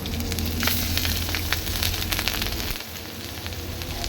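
Nigella seeds sizzle in hot oil for a vegetable chorchori, a steady, close frying hiss with crackling pops that softens slightly near the end.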